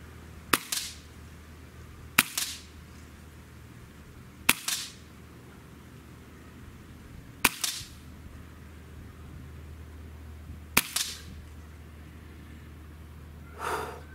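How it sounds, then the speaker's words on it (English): A Benjamin Marauder semi-auto air rifle fires five pellet shots, each a sharp crack with a short whoosh, spaced a couple of seconds apart, close, with a faint breath or snort at the end and no talk. "I was shooting these groups, and I was honestly putting one pellet behind the other"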